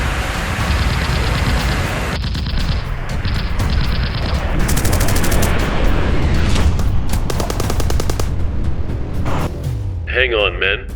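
Rapid machine-gun fire from a German Fw 190 fighter rakes a Lancaster bomber at altitude, loud bursts of gunfire over a dense roar of engines, with sharp impacts and a booming crash near the end.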